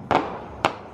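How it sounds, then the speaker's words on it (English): New Year's Eve fireworks for 2017 seen from a distance: two sharp bursts about half a second apart, moderately loud against a low background hiss, with no talk. "we're seeing the fireworks from where we are"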